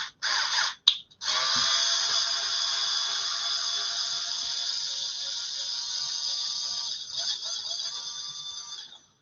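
An XG1 cordless screwdriver motor runs with a steady, high-pitched whine. It starts after a few brief stuttering bursts and holds near and loud for several seconds before winding down.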